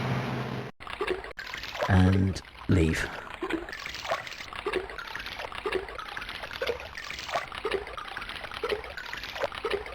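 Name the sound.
splash of falling into water in Alone in the Dark video game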